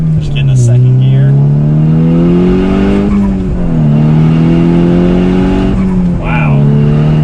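Volkswagen Golf R accelerating hard through the gears, its loud engine drone climbing in pitch with gear-change dips around three and six seconds, heard from inside the car with a voice talking over it.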